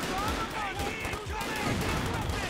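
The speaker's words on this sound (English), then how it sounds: "That mortar, man." Mortar fire in the video game Company of Heroes 2, during a 2v2 Annihilation match: a rumbling battlefield of repeated heavy thuds and crackling explosions layered with scattered gunfire, sounding fairly close and continuous.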